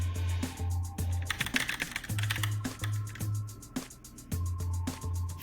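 Typing on a Logitech K845 mechanical keyboard with TTC Red switches, a close, steady run of crisp clacks over a pulsing low hum, with no talk.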